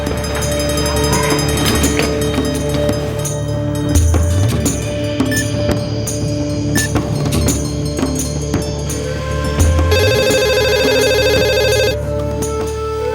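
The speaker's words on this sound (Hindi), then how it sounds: "सर जी वो स्टाफ रूम में आपका मोबाइल बज रहा है" A mobile phone ringtone plays a repeating electronic melody for several seconds, fairly loud and close, with no voices.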